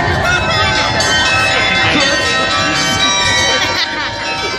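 Bells ring out continuously at a London street performance, loud and layered with sustained metallic tones, over a murmuring crowd and a voice in the foreground.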